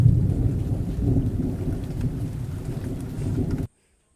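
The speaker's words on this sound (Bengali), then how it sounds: "একটু পরেই বিদ্যুৎ চমকাতে লাগলো আর খুবই মুষলধারে বৃষ্টি পড়তে লাগলো।" Thunder rumbles under steady, heavy downpour in a cartoon storm scene, a loud continuous wash of rain that cuts off abruptly into silence near the end.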